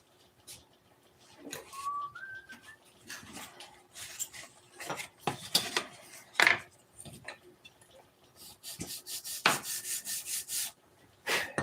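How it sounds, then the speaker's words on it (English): Intermittent scraping and rubbing strokes of sanding filled divots in a wall where tile was removed, in uneven bursts with pauses between, fairly close, and no talking. "A little bit of sanding."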